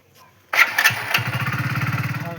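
A motorcycle cranks and fires up after a brief quiet moment, settling into a close, steady rhythmic idle putter.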